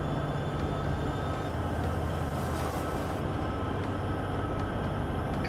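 A steady, continuous rumble of a train departing in Minecraft with the Create mod, with a constant low drone and faint high whine, no talking.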